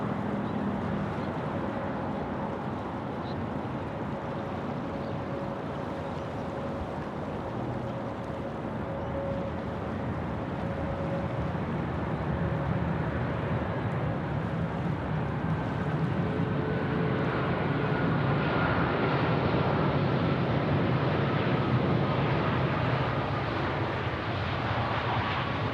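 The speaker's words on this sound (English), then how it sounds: "this is our first heavy arrival, or first heavy movement on the stream on the close-in runway" A heavy jet airliner on the close-in runway at Sydney Airport, a broad continuous engine roar that slowly builds in loudness over about twenty-five seconds, heard from a distance outdoors with no talk.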